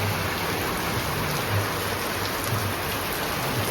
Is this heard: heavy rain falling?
yes